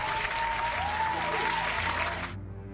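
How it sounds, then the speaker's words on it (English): Sustained applause from an audience fills the space at a steady loud level for over two seconds, then cuts off abruptly, leaving a faint low hum behind. "Apparently you heard applause."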